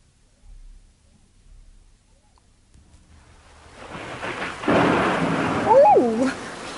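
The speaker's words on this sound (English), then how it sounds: "It's raining." Rain with thunder builds from near silence into a steady wet hiss and low rumble, growing louder over the last few seconds; no one speaks.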